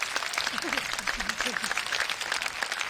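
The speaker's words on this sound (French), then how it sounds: "notre public synthétique t'applaudit" Synthetic studio-audience applause plays during a French improv chat show, a looping clapping texture under and around a voice that talks in short bursts.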